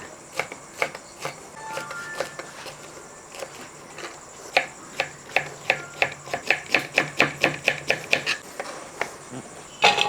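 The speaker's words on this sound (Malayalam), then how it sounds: "ഇതേപോലെ പാവയ്ക്ക വറുക്കാൻ ഒട്ടൊക്കെ അരിഞ്ഞെടുക്കുന്നു" Bitter gourd (pavakka) sliced with a knife on a board for frying, scattered crisp taps that speed into a fast steady run of cuts, close and clear, no speech.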